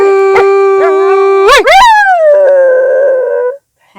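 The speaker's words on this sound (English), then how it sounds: "That's a nice howl." A dog howls close by in one long, loud, wavering note that rises sharply, then slides down and trails off into a softer whine.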